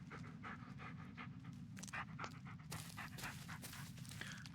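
A dog pants steadily in the Blair Witch video game, a rapid rhythmic huffing close by that carries on throughout over a low, constant ambient rumble, with no one speaking.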